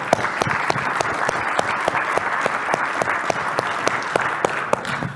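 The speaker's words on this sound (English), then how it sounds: "Let's give them a round of applause." Conference audience applauding sponsors at an OpenTofu opening session, steady, fairly loud clapping from a sizable crowd that holds even throughout with a few sharper individual claps.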